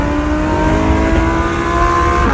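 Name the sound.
Audi R8 accelerating on the freeway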